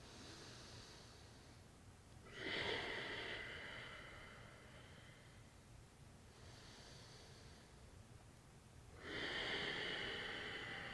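Slow, deep breaths during a yoga forward fold, with two long hissing exhales separated by a quieter inhale. The breathing is close, soft and steady against a faint background hiss.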